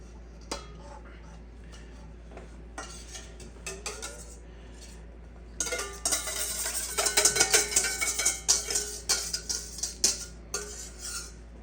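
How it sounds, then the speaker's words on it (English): A whisk beats wet and dry fritter batter ingredients in a bowl, first a few light clinks, then rapid rhythmic tapping and scraping against the bowl that keeps on for several seconds, close and fairly loud. "Go ahead and whisk together."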